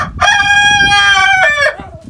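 A chicken calls loudly and close, one long drawn-out harmonic squawk with a brief break, then trailing off, while low background murmur continues underneath.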